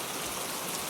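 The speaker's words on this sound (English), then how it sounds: "As the rain continues beyond the window," Gentle rain falling outside a window of a quiet room, a soft, even, continuous patter with no pauses, low and steady throughout.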